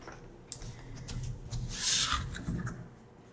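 A fabric quilt block is trimmed up close with soft rubbing and scraping, followed by a brief brighter swish in the middle.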